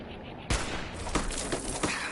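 Gunfire in the video game Fallout 4, a sharp opening shot followed by several quicker, fainter reports in an uneven burst, with a voice murmuring underneath.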